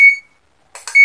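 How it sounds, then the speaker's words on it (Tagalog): A digital multimeter set to continuity mode, used as a tester while repairing an electric drill, gives a sharp, high-pitched electronic beep, falls silent, then beeps again after a brief rustle of handling nearby. "set po muna natin itong tester natin sa continuity sa buzzer para tumunog siya"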